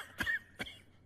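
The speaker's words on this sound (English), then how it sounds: "Let me cure your cough." Two short, sharp coughs from an anime character in a fantasy warrior series, spaced about half a second apart, close and clear against a quiet background.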